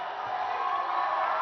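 Crowd noise from team members at the ABU Robocon 2022 India robot competition matches, a continuous dense roar of voices and whoops that builds slightly, heard from a distance.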